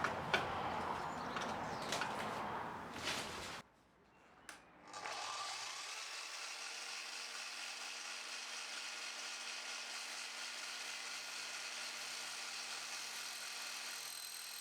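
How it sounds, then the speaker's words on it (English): A power saw cuts UPVC plastic skirting board at a 45-degree bevel, a loud whine for a few seconds, then a brief drop before the blade spins down in a long fading hum. "I'm now cutting this piece at 45 degrees"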